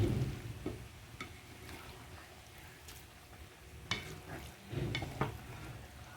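Bamboo shoots simmering in coconut milk with salt are stirred in a pot, giving faint scraping and clinking against a low bubbling background, with a few sharper knocks near the end.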